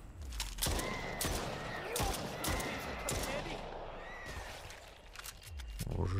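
Gunfire in the horror video game Stray Souls, rapid bursts of shots and sharp cracks repeating over a murky ambient background, fairly quiet overall.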